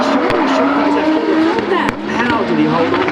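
Drift cars at the British Drift Championship round at 3 Sisters roar close by with squealing, skidding tyres, a loud continuous engine and tyre howl over which a commentator talks.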